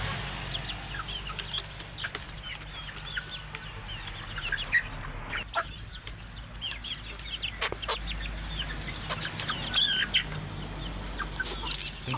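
Four-month-old Darag native chickens, hens and roosters, on a farm, clucking and calling softly in scattered bursts against a low, steady background murmur.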